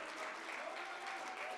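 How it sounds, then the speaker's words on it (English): Audience at a student awards ceremony clapping steadily, a dense, even burst of applause heard from within the crowd for under two seconds. "keep the applause going for that"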